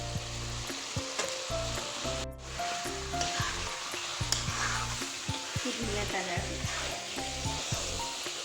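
Meat frying in a kadai in a home kitchen gives a steady, close sizzle that runs throughout, over low tonal sounds in the background.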